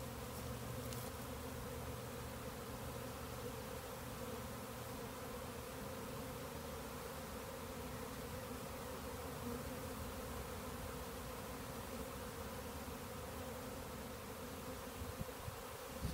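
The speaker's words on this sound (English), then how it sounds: "there is a huge cloud of bees over there right now." A honeybee swarm issuing from its hive, a dense, steady drone of many bees buzzing together, continuous and unbroken throughout, with no voices.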